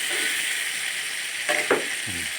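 Fish coated with turmeric fries in oil with a steady, close sizzling hiss, broken by a couple of brief clinks and stirring sounds near the end.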